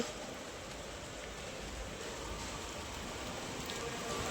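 Monsoon rain falls on Ashadhi Bij as a faint, even hiss of drops, quiet and continuous with no voices.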